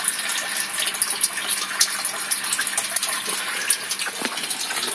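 Water from an aquaponics pump flowing through a perforated PVC pipe into an IBC fish tank, a steady close gushing and splashing stream with bubbly spatters throughout.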